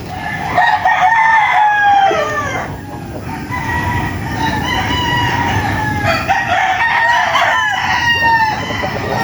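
Gamecocks crow repeatedly, several roosters calling one after another and overlapping, loud and near, with clucking and a busy outdoor background of rain-damp farm ambience.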